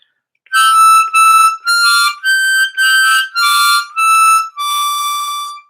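Ode to Joy rings out on a diatonic harmonica, eight separate sustained reedy notes with brief breath gaps between them, loud and close with no talking.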